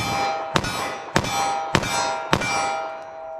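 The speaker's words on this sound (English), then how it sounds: "I'm just going to get a front sight picture and pop these off as fast as I think I can hit the target" Rapid .45 ACP+P pistol rounds striking a steel target: four sharp ringing metallic clangs about half a second apart, each leaving a bright lingering ring, with no talking.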